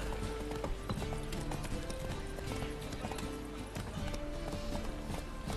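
Horse hooves clip-clop steadily in The Witcher 3: Wild Hunt, a continuous trotting rhythm mixed with game music and ambience, with an occasional whinny.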